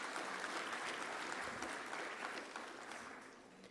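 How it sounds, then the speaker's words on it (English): A room full of people applauds steadily, a dense wash of clapping that gradually softens toward the end. "please welcome him with a round applause"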